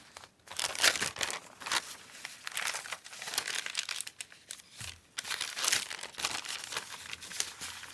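Packaging paper for a junk journal is crinkled and handled up close in irregular bursts of crackling and rustling, with brief pauses between handfuls and no talking.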